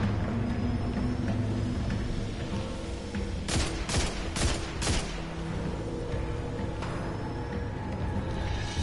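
Gunfire in the video game Destiny 2, with a cluster of four or five sharp, loud shots midway over a steady roar of background game noise and no talking.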